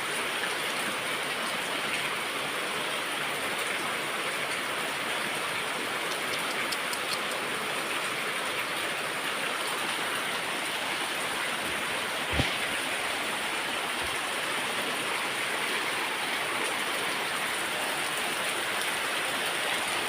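Heavy rain pours at night in a steady, dense hiss with no break, with one brief click partway through and no talking.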